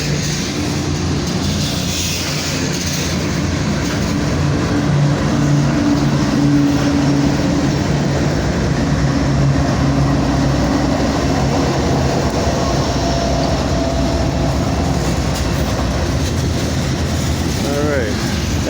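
A long freight train with locomotives and DPUs rolls past close by, giving a loud, continuous rumble and rattle of wheels and cars with engine drone throughout, and occasional voices are mixed in.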